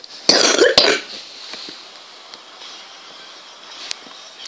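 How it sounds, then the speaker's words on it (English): Two sharp, loud coughs close by in quick succession, followed by a quiet stretch with faint background noise. "Sorry for coughing."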